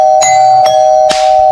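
A household doorbell rings with three quick, loud metallic dings over a sustained ringing tone, heard clearly with no voices over it.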